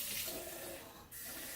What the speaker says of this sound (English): that's, again, just hot water from the tap